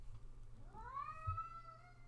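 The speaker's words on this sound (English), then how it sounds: "cats are having a fight in the middle of me doing this" Domestic cats fighting indoors, a rising, drawn-out yowl with stacked harmonics swelling into a sustained wail over low room noise, fairly close and moderately loud, with no talking.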